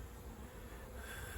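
Honeybees drone steadily around an opened hive in early spring, with new bees and fresh pollen on the comb; the buzz is a continuous, close hum with no talk over it.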